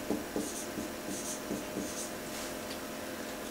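A pen or pencil scratches on paper close by in a quiet room, with a series of short strokes and taps that write out a word by hand.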